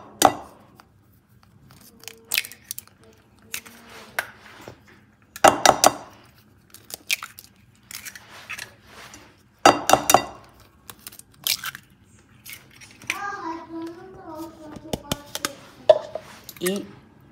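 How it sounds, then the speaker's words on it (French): Sugar and butter are stirred together in a bowl for a pan-cooked cake, giving scattered scraping and clinking knocks of utensil against dish, some sharp and loud, with a person speaking between them. "Donc là, je vais mélanger mon sucre, mon beurre."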